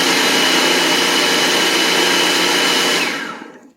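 Food processor whirring loudly as it mixes flour and salt for homemade egg noodles, a steady high-speed blend of about three seconds that stops and quickly winds down.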